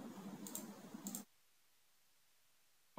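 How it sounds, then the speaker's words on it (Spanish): A single sharp computer mouse click on a download link, close and crisp, heard alone in near-silence right at the end after a stretch of faint clicking and rustle. "Vamos a dar clic aquí en el primero."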